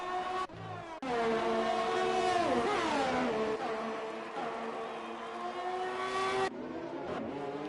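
Race cars in the F1 2020 video game at the Belgian Grand Prix, with a loud, continuous high engine whine that shifts pitch as the cars accelerate and brake, and no talk over it.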